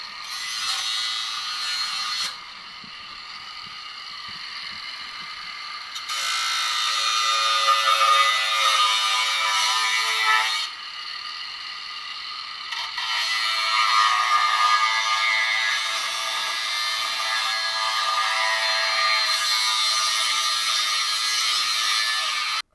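A grinder cuts into a Jeep ZJ front bumper with a loud, sustained high whine, pausing twice and then starting again, close and without speech.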